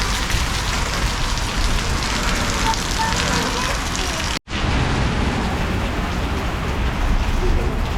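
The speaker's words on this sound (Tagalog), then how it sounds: "Ang lakas ng ulan mga palangga." Heavy rain pours steadily in the Finnish countryside as a dense, loud hiss, with one very brief dropout about halfway through.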